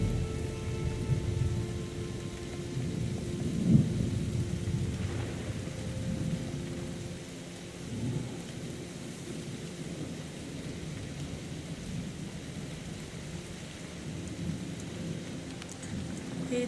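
Steady rain pours and thunder rumbles in a rainy season scene from the video game SEASON: A letter to the future, a soft continuous wash with low rolls of thunder.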